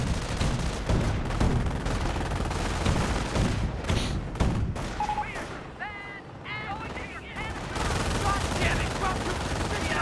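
A Company of Heroes rifle squad lays down suppressing fire as a steady stream of rapid gunshots, with heavier booms mixed into a dense battle din. A short quieter gap comes in the middle.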